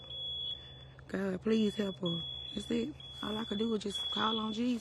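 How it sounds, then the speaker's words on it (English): A continuous high-pitched alarm keeps sounding in a tornado-damaged apartment building, steady and faint behind someone speaking in the foreground. "You could hear the alarm still going off behind those interviews you were conducting there"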